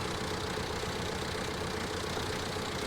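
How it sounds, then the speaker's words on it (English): Steady drone of a tractor engine idling in Farming Simulator 19, a dense, even rumble holding unchanged throughout with no voices. "It's the torpedo tractor."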